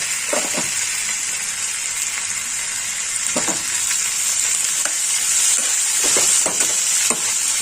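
Ginger paste frying with softened tomato in a pan for a banana flower dish, a constant bright hiss of sizzling with a few scattered stirring scrapes, close and fairly loud.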